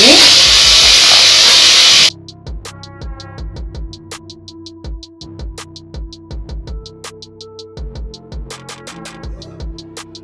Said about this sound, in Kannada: ಇದು ಎಣ್ಣೆಲೆ ಸ್ವಲ್ಪ ಫ್ರೈ ಆಗಲಿ.